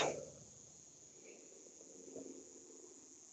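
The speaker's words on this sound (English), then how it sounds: "The cicadas, they just sound like electricity." A steady high-pitched drone of cicadas hums throughout, faint and continuous like electrical buzzing, with a soft thump at the very start.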